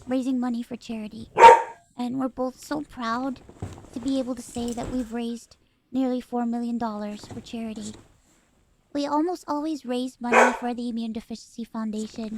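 A dog barks in short bursts a couple of times, loud and close, breaking into a steady stream of talk.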